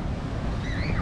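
Strong wind buffets the microphone over rolling surf at Pattaya Beach, Thailand, a continuous roar with no one speaking.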